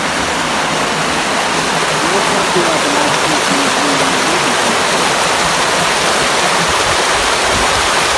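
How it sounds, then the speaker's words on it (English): Spring-fed water rushes over Pedernales Falls in a Texas state park near Johnson City, making a loud, steady, broadband roar that fills the whole stretch without letting up. "Hard to believe that this water right here is coming from a spring."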